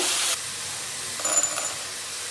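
Spinach fries in oil in a pan with a broad, steady hiss that stays even throughout, with a few faint clinks partway through.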